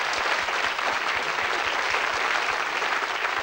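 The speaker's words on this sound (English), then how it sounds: "Give them a round of applause, folks." A studio audience at a 1979 British television game show applauds the contestants, thick continuous clapping at even loudness with no one speaking over it.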